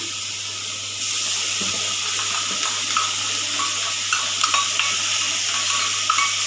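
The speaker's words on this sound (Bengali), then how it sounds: "পেঁয়াজ আর লঙ্কা বাটাটা আমি দিয়ে দিচ্ছি।" Onion and green chilli paste goes into a hot pan for prawn malai curry, giving a steady hissing sizzle that swells after the first second, with light clinks and scrapes over a constant low hum.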